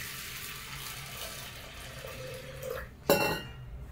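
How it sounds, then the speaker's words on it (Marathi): Water is poured into dal in a pressure cooker: quiet kitchen clinks lead up to a short, bright splash of liquid near the end, with no talking. "घेऊ डाळीत पाणी"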